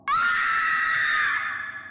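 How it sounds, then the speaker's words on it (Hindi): A woman's loud, sustained scream used as a horror story effect, rising sharply then holding for over a second before trailing off, alone with no talk. "उस बच्चे को देखकर दाई माँ की चीख निकल गई"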